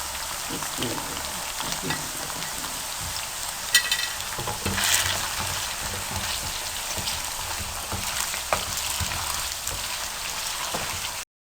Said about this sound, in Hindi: आपने इनको 2 मिनट के लिए हल्का सा फ्राई करना है, जलाना नहीं है